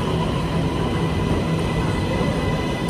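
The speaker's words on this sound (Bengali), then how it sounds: "এই যে ট্রেন আসছে" An MRT train pulls into a station platform in Kuala Lumpur, a steady, loud rolling rumble with a broad hiss that fills the whole few seconds.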